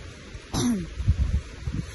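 A single short cough or throat-clear from a nearby person outdoors in a windy mountain field, a brief raspy burst followed by low rumbling wind and handling noise.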